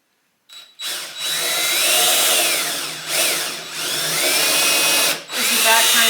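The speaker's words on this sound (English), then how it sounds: "Let's pre-drill and put some screws in and see where we're at." A power drill pre-drills and drives screws into a wooden Adirondack chair, loud close whirring in several sustained bursts separated by short pauses.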